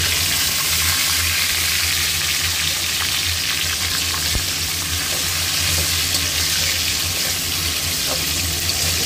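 Cashews and raisins fry in hot spiced oil for a vegetable biriyani, a loud, steady close sizzle running throughout with a faint scrape of stirring and no voice over it.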